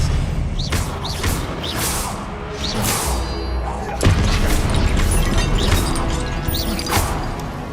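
Confringo blast spells fired in the video game Hogwarts Legacy burst in a rapid series of booms, cracks and whooshes, about half a dozen loud impacts spread across the stretch over a continuous rumbling backdrop.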